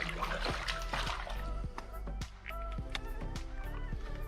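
Water splashing and sloshing at the edge inside a sea cave in Malta, a series of close trickling splashes and drips over steady echoing background noise.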